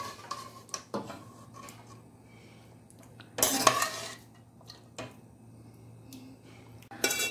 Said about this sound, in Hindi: अब इसके अंदर वापस सालन डालते हैं